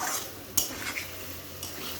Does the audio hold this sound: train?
no